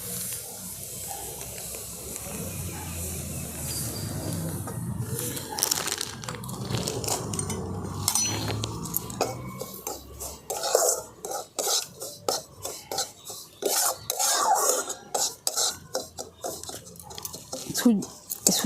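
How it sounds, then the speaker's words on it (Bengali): Semolina stirred around a pan in ghee, a spoon scraping and clinking against the metal, the rough scraping growing busier and more rhythmic toward the end, with a voice talking at times. "সুজিটা এমনভাবে ভাজতে হবে যেন এর কালারটা না চেঞ্জ হয়"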